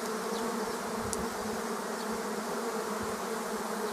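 A swarm of honeybees hums near an apiary as a dense, steady buzz with no break, moderately loud and close, with a few brief higher individual buzzes passing through.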